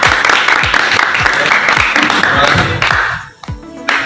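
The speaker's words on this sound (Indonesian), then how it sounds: "kasih tepuk tangan dulu untuk kelompok" Students in a classroom clap for a group, a loud, busy burst of many hands with a few sharp individual claps standing out. It dies away near the end, leaving a moment of quiet and a brief rustle.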